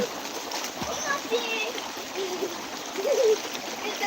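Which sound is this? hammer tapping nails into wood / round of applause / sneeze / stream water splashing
stream water splashing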